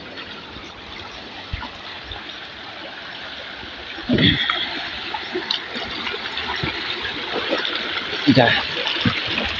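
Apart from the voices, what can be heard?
clear river water flowing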